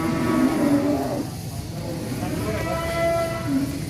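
A large sacrificial cow, nearly a ton, moos loudly and close in a long, low, drawn-out call that fades, followed by a second softer lowing note, with steady outdoor background noise.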